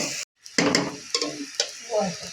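Rice grains sizzle in hot beef fat while a utensil scrapes and stirs through the pan in a few short, close strokes.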